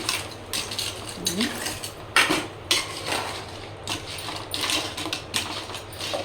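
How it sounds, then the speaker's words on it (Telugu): A spoon stirring food in a pot, heard as repeated close scrapes and clanks of metal against the pot in an uneven rhythm, with soft sizzling underneath and no speech. "మళ్ళీ ఒక స్పూన్తో మనం కలిపేసుకుందాం"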